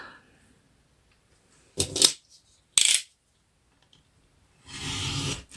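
Sharp scissors cut paper diagonally at a craft table: two brief crisp snips separated by silence, then a longer rasping cut.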